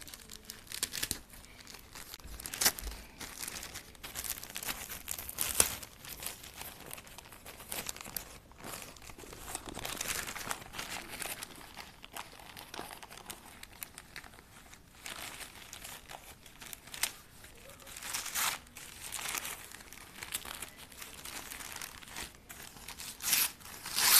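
A gift package being unwrapped and unboxed, with steady crinkling and tearing of wrapping and packaging close by, continuous irregular rustles and crunches throughout and no talking.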